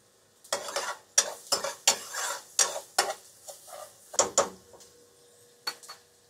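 Sliced onion with salt in white oil, stirred and fried in a pan in a Maharashtrian village kitchen in Pune; a string of short, distinct scraping and sizzling bursts, close and fairly loud, with brief pauses between strokes.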